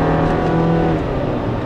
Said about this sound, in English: the engine actually makes a pretty pleasant sound when you're accelerating